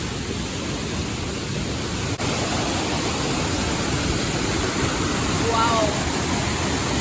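A Brazilian waterfall roars as a steady broadband rush of falling water, constant and full, with a faint brief chirp near the end.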